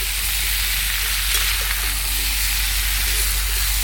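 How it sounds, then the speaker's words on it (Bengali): Vegetables fry in a pan for a home-cooked lunch of papaya curry, a loud steady sizzle close by with faint stirring, no voices over it. "সবজিটা ভাজা হয়ে গেছে"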